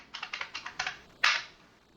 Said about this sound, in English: you'll type in your regular user password